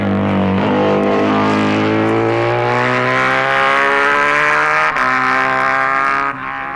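A Czechoslovakian Jawa twin racing motorcycle at the TT races roars close by at high revs, its engine note climbing steadily and loud with a brief gear-change dip, then trailing off.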